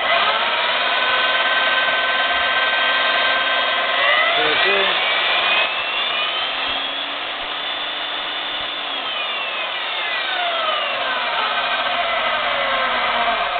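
A Milwaukee 44020 magnetic drill motor whines steadily while running in reverse, its pitch sliding down and back up as it slows and speeds, with a short rattle partway through.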